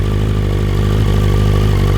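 A BMW M 1000 XR motorcycle engine breathing through an Aero full titanium exhaust, a steady loud close-up idle with a deep rumbling pulse and no voices over it.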